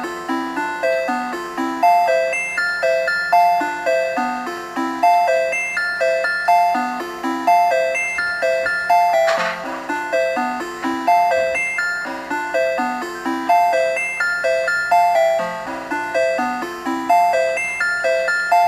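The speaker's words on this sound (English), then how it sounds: "you start playing with the start and finish of these notes" Repeating electronic notes play in a looping sequenced pattern, bright plinking tones cycling steadily over a low sustained hum.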